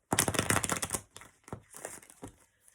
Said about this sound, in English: Let me do this with a shuffle real quickly.